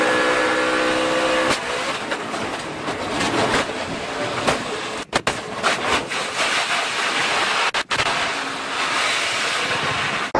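NASCAR stock cars race past on the track, a loud continuous engine roar with passing surges and brief dropouts, sustained for the whole stretch with no talk over it.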